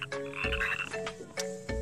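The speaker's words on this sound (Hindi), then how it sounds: "अब मैं फ्रॉग स्पॉन करता हूँ, देखो अब वो टर्राएगा" A frog croaks in Minecraft, giving several short, throaty croaks in an uneven rhythm, close and clear with game ambience behind and no speech.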